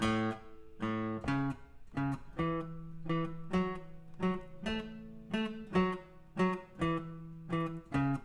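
A guitar plays a bass line alone, with clear plucked notes repeating in a steady, moderately paced pattern, close and clean.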